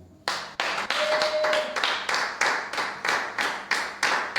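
A church congregation claps in a fast, steady rhythm, with a dozen or so sharp, loud unison claps rolling on without pause.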